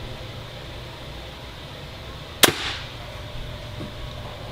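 A single sharp crack as a Darton Rebel 135 crossbow is shot over the top of a shooting machine, one loud snap with a brief ringing tail against a quiet, hissy background.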